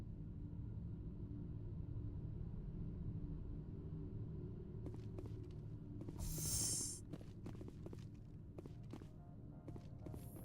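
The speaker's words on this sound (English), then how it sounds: "Looks like a hell of a storm outside." A heavy storm rumbles outside in the video game Mass Effect as a steady, deep roar with a brief hissing burst and scattered clicks partway through. No voices are heard.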